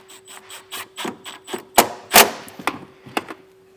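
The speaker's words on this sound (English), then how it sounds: "we're just going to take our self-tapping screw that came in our kit, and we're going to run it right into that hole." A self-tapping screw is driven into a pre-drilled hole to make a ground for a Curt T-connector trailer wiring harness, giving a series of short rasping, ratcheting bursts close by, with a few sharper louder crunches midway.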